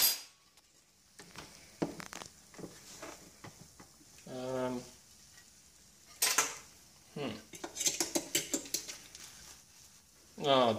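Cutlery clinks and scrapes against dishes while making waffles with eggs and chocolate, scattered sharp taps and rattles coming in bursts between bits of talk.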